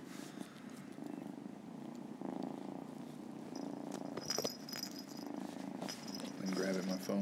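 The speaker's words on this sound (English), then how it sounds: "I don't know if you can hear Hank purring now." A cat purrs softly and close by in a low continuous rumble, with faint rustling and a few small background noises over it.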